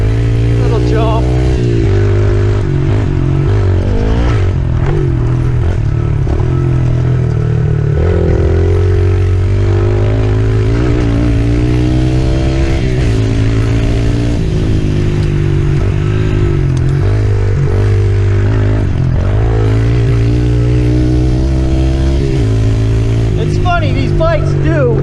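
A Yamaha TTR 110 pit bike with Pro Taper bars rides a small dirt track, its little engine droning loud and close as it revs up and down for the whole stretch.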